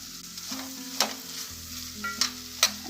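A spoon stirs cooked prawn curry with freshly added coriander in a pan, giving soft scraping strokes with a few sharper clinks over a low background sizzle, close and fairly quiet.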